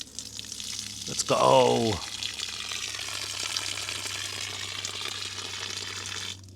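Water runs from a newly installed tap at a dome house building site with weak pressure, giving a steady hissing splash that follows a brief squeaky turn of the handle, close by, while someone speaks briefly.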